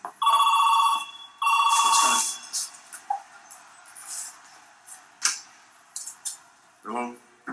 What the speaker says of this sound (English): And so Taker rings the phone,